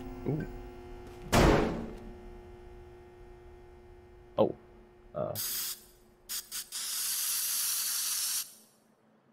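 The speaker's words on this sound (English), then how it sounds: "Why would I need a spray can in a game about breaking things?" A spray can in the video game Teardown hisses in a few short bursts, then a sustained loud spray for about two seconds, after an earlier thump and scattered clicks.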